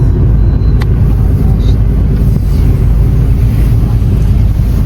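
Steady road noise from inside a moving car, a loud continuous low rumble of tyres and wind with a faint click or two, no voices.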